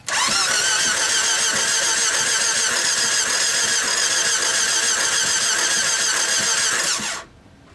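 A Peugeot 407 engine with a replaced engine cranks and runs at a steady, loud drone for about seven seconds, then abruptly cuts off into near silence.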